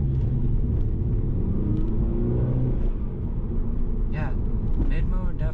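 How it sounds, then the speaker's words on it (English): A turbocharged Mini Cooper S engine with an aFe Power intake, in sport mode, hums and rumbles steadily from inside the cabin, rising gradually as it builds boost, with brief whistling and whooshing sounds near the end. "you can hear it building up boost"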